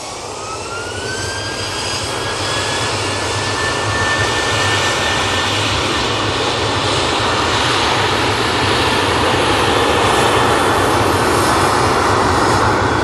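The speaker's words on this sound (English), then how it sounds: "Next out, Ryanair even, 737-800." A Ryanair Boeing 737-800 jet takes off at Manchester Airport, its engines a loud, steady roar that builds over the whole stretch, with a rising whine drifting upward above the broad rumble.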